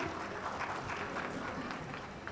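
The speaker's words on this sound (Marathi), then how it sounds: "जोरदार टाळ्या होऊ जाऊ देत." An audience at a large women's community gathering breaks into steady, sustained applause. It is a dense wash of clapping hands, moderately loud and even throughout, with crowd murmur underneath.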